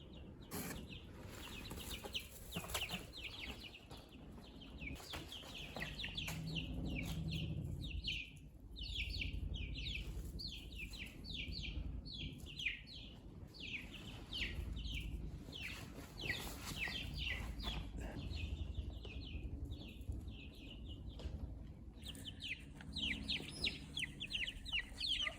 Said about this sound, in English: Here's the chicks.